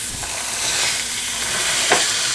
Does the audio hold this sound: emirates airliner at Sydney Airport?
no